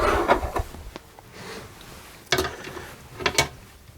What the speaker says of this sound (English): So the penny washer fits through the baffle plate and screws into the nut start.